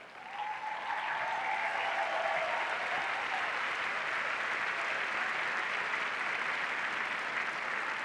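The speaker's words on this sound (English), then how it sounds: "We can applaud that statement" A large crowd at the 1992 Democratic National Convention in Miami applauding, dense sustained clapping that swells in and holds steady, with faint cheering mixed through.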